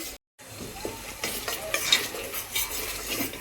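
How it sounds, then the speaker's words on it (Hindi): Homemade ghee, made from malai, is stirred in a pan with a utensil, giving a steady scraping stir over a soft sizzle and faint clinks of metal, close and alone with no talking. "तो ये घी बनकर तैयार हो गया है, चलाऊँ अच्छे से।"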